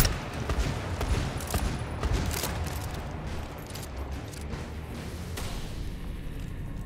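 Sustained bursts of gunfire from several enemy shooters in the video game GTFO, loud and dense for the first few seconds, then continuing as a steadier rattling barrage at a slightly lower level.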